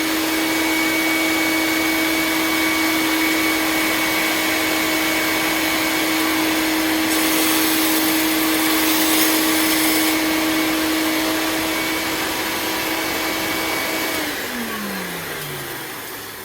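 A woodshop power sander with attached dust vacuum whines steadily and loudly, then winds down near the end as the motor spins to a stop.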